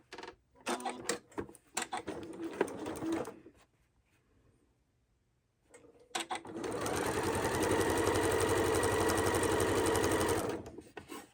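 A sewing machine stitches log cabin quilt squares. Two runs of steady mechanical whirring are separated by a short quiet pause, and the second run is a long, even, continuous stretch of stitching.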